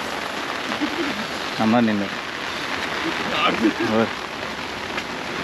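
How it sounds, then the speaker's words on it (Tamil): Heavy monsoon rain falls steadily in Vagamon, Kerala, during a red-alert storm, a constant wash of rainfall heard close by while someone speaks briefly over it. "மழை பாருங்க, பிச்சு அடி சரியான மழை."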